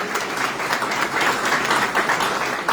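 A crowd at a business recognition ceremony applauds loudly and continuously, a thick wash of many hands clapping at once with no break.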